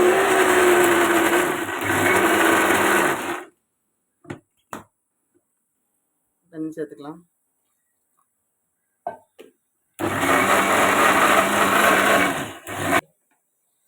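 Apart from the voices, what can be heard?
mixer grinder blending juice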